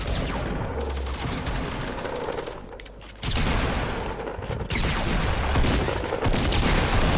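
Rapid, loud gunfire bursts from the Fortnite: Battle Royale video game, dense and almost continuous, with a brief dip in intensity before the shooting surges back for the rest of the stretch.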